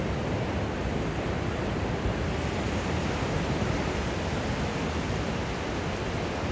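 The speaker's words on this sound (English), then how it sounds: "this water and how it washes over the sand in such an elegant and smooth way" Ocean waves wash steadily over a sandy shore in a continuous, broad roar of surf, close and fairly loud, with no talking.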